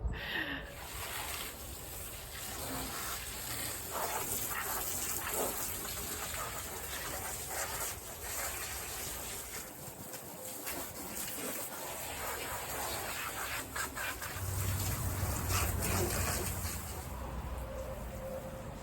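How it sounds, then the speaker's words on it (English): A garden hose sprays down the inside of a greenhouse, washing off cobwebs and dirt, giving a steady broadband rush of water that runs continuously throughout, with a deeper splashing surge toward the end. "I'm gonna give it a little hose down now because there's cobwebs everywhere and dirt everywhere."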